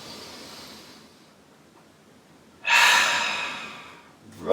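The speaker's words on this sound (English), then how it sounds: "One more deep breath together." A single deep breath at the close of a yoga session for low back pain, heard as a quiet, drawn-out inhale and then a stronger, airy exhale close to the mic that fades slowly, with another breath starting at the end.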